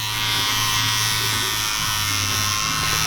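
Electric hair clippers buzz steadily and loudly up close as they cut a mid skin fade line on red hair in a barbershop, a continuous motor hum with slight shifts in pitch and no talking.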